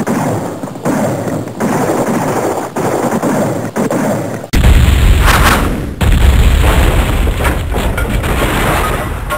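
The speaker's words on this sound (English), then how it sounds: "We are going to shoot their asses down." Loud, sustained automatic gunfire from an animated Sonic fan show's battle scene: rapid machine-gun bursts roll on without a break, with a heavier booming surge about halfway through.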